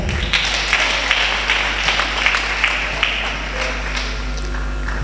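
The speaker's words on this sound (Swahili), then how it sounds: "Makofi tena." A congregation at a church women's marriage teaching session claps, a moderately loud patter of many hands with a few sharper individual claps standing out, holding steady throughout.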